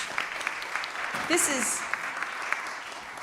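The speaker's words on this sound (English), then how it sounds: "Can we get a little round of applause?" A small audience at an arts and culture candidate forum gives a brief round of applause, steady broadband clapping from the room, with a short voice surfacing over it partway through.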